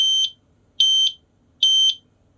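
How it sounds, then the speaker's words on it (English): Three loud, shrill electronic beeps from the buzzer in an industrial light stack powered at 14 volts, evenly spaced about a second apart, each lasting roughly half a second, with silence between them. "14 volts and it's just a loud beep."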